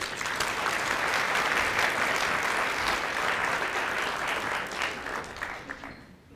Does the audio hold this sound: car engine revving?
no